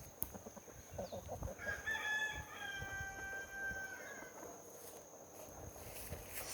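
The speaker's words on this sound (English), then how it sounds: "And here's my birds in their coop." Chickens in a backyard coop in Hawaii: a rooster crows once at moderate distance over faint clucking and a low outdoor hum.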